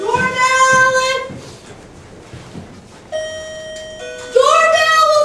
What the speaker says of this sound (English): Doorbell! Will someone answer it,